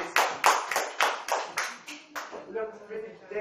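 A small classroom group claps for a guest, a short run of distinct, fairly even claps for about two seconds before a voice resumes speaking.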